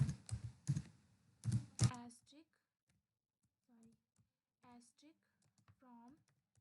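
Someone types an SQL command on a computer keyboard, a quick cluster of clicking keystrokes at the start followed by sparse single taps, with a person talking in Hindi over and between the keys.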